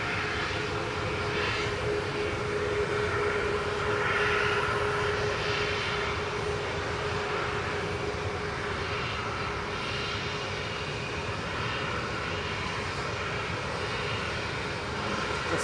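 A jet airliner bound for Alicante climbs away from Manchester Airport, its steady engine roar heard at a moderate distance with a sustained tonal hum, fairly even in level the whole way.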